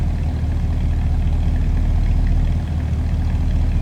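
A 1956 Chevrolet Bel Air convertible with a 265 small block V8 idles with a steady low rumble, close and loud, even throughout with no voices.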